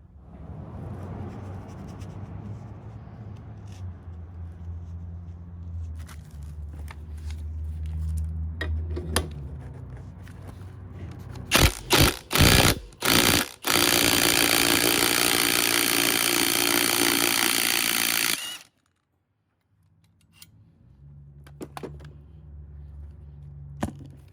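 A 17mm socket on a power tool removes the inner race of a Honda Civic/Integra wheel hub bearing, giving rough mechanical whirring followed by a few sharp bursts and a loud sustained run that cuts off abruptly.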